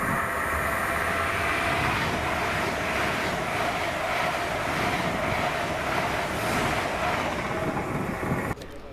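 An LNER Class 800 unit, 800.113, on an Aberdeen to London King's Cross service, roars steadily through Monifeith station close by, a sustained loud rush of wheels and air that drops off abruptly at the end.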